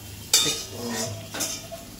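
A spatula scrapes and stirs in a hot wok while food fries with a steady sizzle, with sharp metallic scraping strokes at the start and end.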